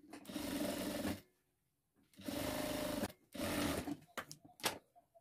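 A sewing machine runs in three bursts of stitching along the sides of a fabric handbag, steady motor whirring with short pauses and a few quick stops at the end.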